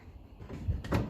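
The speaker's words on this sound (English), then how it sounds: "just get the plastic hammer and give that a little tap" A plastic hammer gives two soft, quick taps on a part of a 1957 Ferguson 35 TVO tractor in a quiet workshop.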